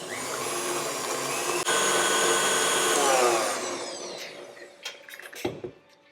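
Electric hand mixer whirring steadily as it beats eggs into butter and icing sugar for a vanilla cake batter, loud and continuous for about four seconds before cutting off, leaving a few faint clinks and a soft knock.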